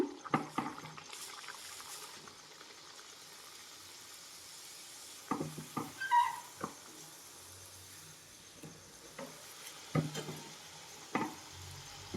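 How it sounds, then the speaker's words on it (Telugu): Bottle gourd vadas (garelu) frying in hot oil, a soft steady sizzle with occasional louder crackles and pops, fairly quiet with no talking. "గారెలు ఆయిల్లో వేసుకున్నాము"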